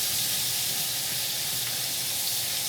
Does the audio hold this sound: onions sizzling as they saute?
yes